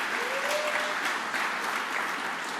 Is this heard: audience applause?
yes